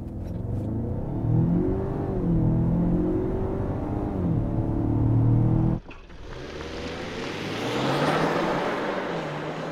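A 2020 Lincoln Corsair Reserve compact luxury SUV with a 2.3-liter turbo engine pulls hard from a standing launch, its engine note climbing steadily, then a gear change drops into a rushing roar of wind and road noise.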